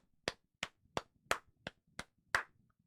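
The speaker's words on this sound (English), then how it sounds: "Let's give a round of applause" Seven sharp, evenly spaced single claps ring out close and clear, a slow rhythmic round of applause from one person with no talking.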